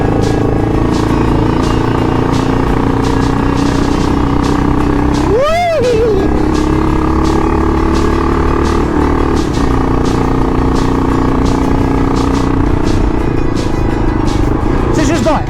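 A motorcycle engine drones steadily while riding on a bikers' trip near Mariepskop, close and loud with wind buffeting, a rising and falling engine pitch partway through, and a voice talking over it.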